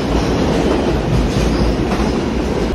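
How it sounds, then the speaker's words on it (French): A New York subway train rumbles loud and close with a steady, dense roar and faint rhythmic rattling of wheels on track, no voices. "je vais prendre le métro new-yorkais"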